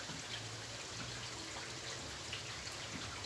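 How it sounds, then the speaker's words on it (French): Rain falls steadily outdoors, a faint, even hiss of drops on surfaces with no breaks and no one speaking. "Il pleut beaucoup."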